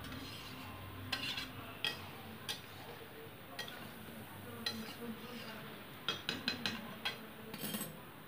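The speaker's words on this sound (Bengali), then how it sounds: "এবার দিয়ে দিচ্ছি আমি আলুগুলোও চিকেনের সাথে ভালো করে কষিয়ে নিচ্ছি আমি" Chicken curry with potatoes being stirred in a pan, with scattered clinks and scrapes of a spatula against metal over a faint sizzle, with brief quiet voice in the background.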